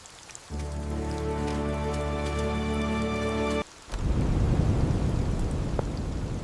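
A heavy rainstorm with rumbling thunder roars loud and dense in the second half, after a few seconds of steady tonal droning that cuts off abruptly.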